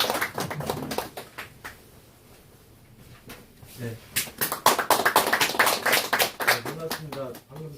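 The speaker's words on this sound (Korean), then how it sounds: "박수로 좀 환영 부탁드리겠습니다" A seated audience claps to welcome a speaker at a neighborhood forum lecture on redevelopment projects. Scattered taps come first, then a dense burst of applause fills the second half, mixed with talk.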